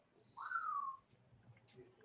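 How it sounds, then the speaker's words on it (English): Pet birds kept indoors give a faint whistling call in the background of an online video call, one drawn-out note followed by softer scattered chirps. "I love your birds, the background, Paul."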